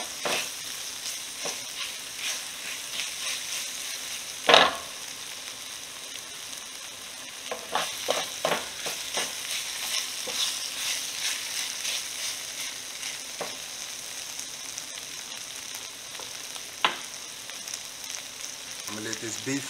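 Beef sears in a pan over medium heat to get a char, giving a steady, moderate sizzle with scattered pops and a few clinks throughout.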